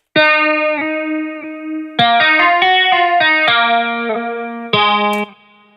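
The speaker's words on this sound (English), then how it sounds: "It should sound like one big ass guitar." Distorted electric guitar chords ring out, several layered parts playing together, with sustained notes and quick changes, loud and thick.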